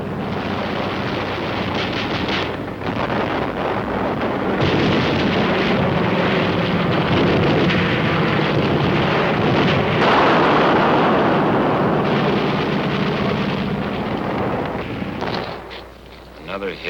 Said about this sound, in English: Navy air comes strafing. And Marine air with rockets and napalm to burn them out.